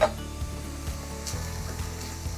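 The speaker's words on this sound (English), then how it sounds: "In goes the sliced garlic, and we're just going to give it a little stir" Sliced garlic sizzles in a hot pan while braising a Southwestern pork shoulder, a soft steady frying hiss with occasional light scrapes and knocks from stirring.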